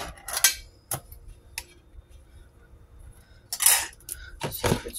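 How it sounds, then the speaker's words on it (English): Chili is put into a dish in a kitchen, giving a few sharp clinks and scrapes of a utensil against the dish, spaced out with quiet between them. "I can put the chili in here"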